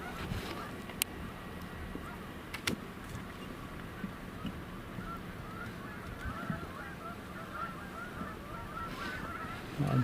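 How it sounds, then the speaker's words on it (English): Geese honking repeatedly at a distance, a scattered chorus of calls over steady low rumbling background noise. "It may be those same geese that we're hearing now."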